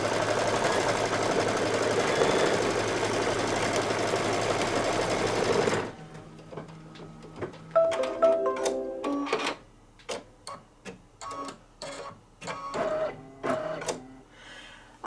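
An embroidery machine stitching a placement line in red thread, first under a loud broadband hiss, then alone as rapid, sharp mechanical ticking in uneven bursts with short pauses, close and clear.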